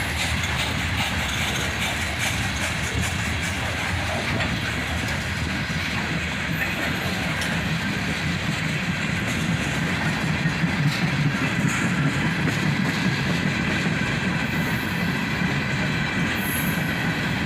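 CSX freight train cars, including an old Northwestern car and a rusty Soo Line car, roll steadily past on the rails with continuous loud rumbling, wheel clatter and occasional high squeals, with no talking.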